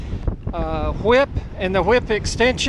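Strong wind gusts buffet the microphone outdoors at a portable amateur radio station with a Chameleon hybrid whip antenna, a low rumbling roar running under a man's close, continuous speech.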